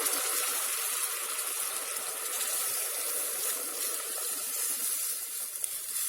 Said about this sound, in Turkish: Şimdi suyunu döküyorum.